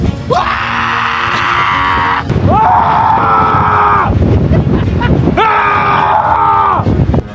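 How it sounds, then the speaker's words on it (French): Loud, sustained screaming from several people outdoors in Scotland, three long yells in a row, each voice taking a turn with brief breaks between them. "Vas-y, crie."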